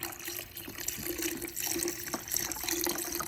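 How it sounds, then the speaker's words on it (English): Chicken stock poured into a pot of Louisiana Cajun gumbo makes a steady, close liquid gurgle and splash, running continuously with no talk. "Next, I'm going to put some chicken stock."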